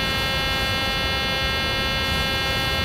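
A loud, steady cockpit warning buzzer sounds in a PMDG 737-800 in Microsoft Flight Simulator 2020, a harsh continuous tone with no break for about three seconds.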